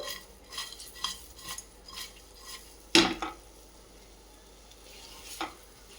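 Crispy paneer 65 frying in a pan, stirred with a utensil: a steady low sizzle under repeated scraping and clinking strokes, with one sharp metallic knock near the middle and another toward the end, no talking.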